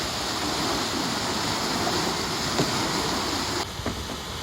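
Water leaks forcefully through canal lock gates beside a narrowboat, a steady, close hiss and rush that fills the whole stretch and eases slightly near the end, with no talking.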